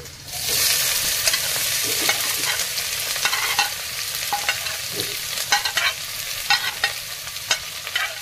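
Onion hits hot oil already holding fennel seeds and broken dried red chillies for a palak paneer curry, giving a steady loud sizzle with scraping stirring strokes that turn rhythmic toward the end.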